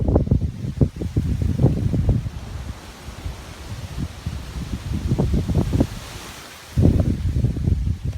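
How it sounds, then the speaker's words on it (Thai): Strong gusts of wind during storm Noul buffet the microphone in uneven surges, loud rumbling bursts with brief lulls between them. "ลมจะมาเป็นช่องๆนะครับ"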